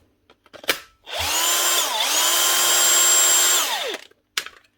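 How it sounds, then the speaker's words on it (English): A cordless nut gun impact wrench, among Bosch, Makita and DeWalt power tools being repaired, runs loudly for about three seconds with a brief pitch dip partway, framed by sharp clicks and knocks before and after. "So that's the nut gun."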